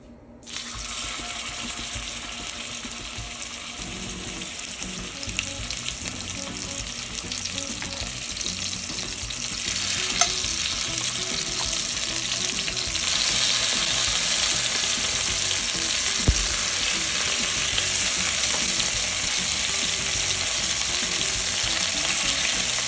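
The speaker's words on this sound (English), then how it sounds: "searing them in the pan to lock in all the juices" A chuck roast sears in a hot pan, giving a steady close sizzle that grows louder about halfway through and keeps going with no talk.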